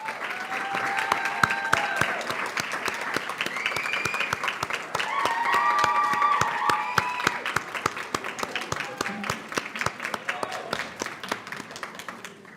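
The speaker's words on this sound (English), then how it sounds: "Let's give them a round of applause" Audience applause for new Bachelor of Science in Nursing students at a university nursing school welcome ceremony, a steady wash of many hands clapping with scattered cheers, sustained at moderate loudness throughout before thinning toward the end.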